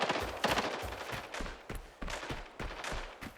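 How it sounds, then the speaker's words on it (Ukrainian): Rapid bursts of video game gunfire from bots crack repeatedly in quick succession, sharp and fairly close, with irregular pauses between volleys. "Боти там стріляють як завжди."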